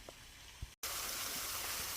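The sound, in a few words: waterfall at Peachtree Rock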